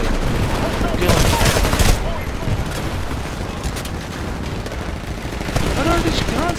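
Rapid automatic weapons fire and explosions rattle continuously in the Titanfall shooter game, loud and dense, with a player's voice talking over the combat.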